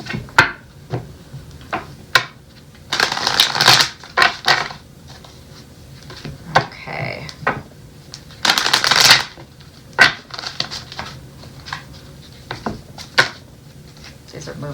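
Tarot cards shuffled close up: repeated crisp riffling bursts and soft slaps of the deck, irregular in rhythm, with a person talking quietly between the shuffles.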